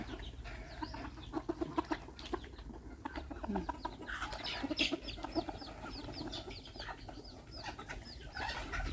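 A flock of bantam hens clucks and chatters at evening feeding time on a bantam farm in Chanthaburi, many nearby birds calling in a steady overlapping stream.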